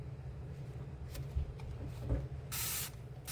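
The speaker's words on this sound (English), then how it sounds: "This spray will help to cut through all of the grease." Dawn Platinum Power Wash Spray hisses onto the grill grates of a Ninja Woodfire smoker grill in a few short bursts, ending in one longer close spray.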